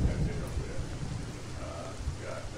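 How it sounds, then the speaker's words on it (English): A steady wash of heavy rain from a Roblox storm with a low thunder rumble underneath, loud and continuous throughout, with no clear talk. "The storm has caused the key residence to collapse!"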